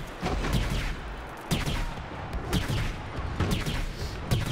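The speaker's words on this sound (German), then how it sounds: "Oh, da machen wir den Airstrike jetzt hin." Airstrike explosions and gunfire in Star Wars Battlefront, a dense, loud barrage of booming blasts and rattling shots that keeps going throughout, with heavy hits landing in irregular bursts.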